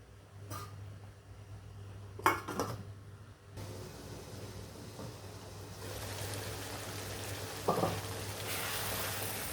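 Steady sizzling and bubbling of chicken biryani cooking in a pan, with a low hum underneath and a few brief clatters of utensils.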